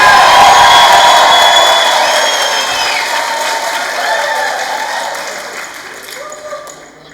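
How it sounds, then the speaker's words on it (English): A graduation ceremony audience cheers and applauds in a large hall for a health and sport ceremony, a loud dense burst of clapping and crowd noise that gradually fades over several seconds. "When I get to the top of the stairs, you give me the cheer, right?"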